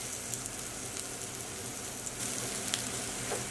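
Zucchini fritters frying in a pan over medium heat give a steady, soft sizzle throughout, with faint crackles popping now and then and no voices over it.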